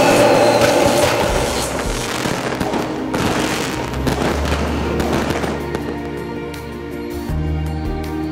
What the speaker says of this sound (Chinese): 而且真的有烟火哎！